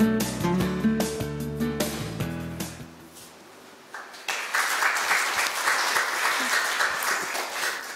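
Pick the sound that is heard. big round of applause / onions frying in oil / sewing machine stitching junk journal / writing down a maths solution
big round of applause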